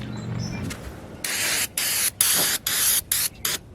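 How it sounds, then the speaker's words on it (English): Bursts of brake cleaner sprayed onto an RV roof, close and loud, in several separate hissing blasts of roughly half a second each, with short pauses between them. "Just using brake cleaner."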